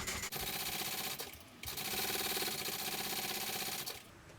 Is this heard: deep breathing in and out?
no